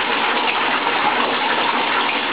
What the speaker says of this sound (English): Yeah, the tub's filling.